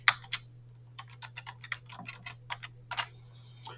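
Fingers type a MySQL command on a computer keyboard, a quick irregular run of close, crisp key taps with short pauses, over a faint steady hum.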